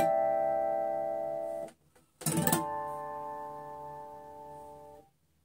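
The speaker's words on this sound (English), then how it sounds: "Guitar can make the harmonic sound like this." Acoustic guitar tapping harmonics ring out as bright, bell-like sustained tones, broken by a short percussive tap burst in the middle before the chime resumes and fades, played alone with no voice.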